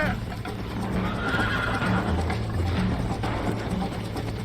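Horse neighing loudly over galloping hoofbeats during a ranch race in the Red Dead Redemption video game, dense and continuous with game sounds throughout.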